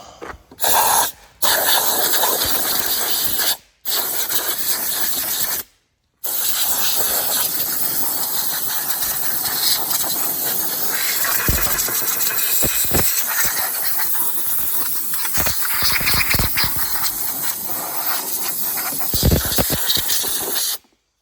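A loud, continuous rush of blown air roars for about twenty seconds as a blower clears debris off a Cub Cadet ZT1 zero-turn mower, with a few brief cutoffs early on and occasional clattering bursts.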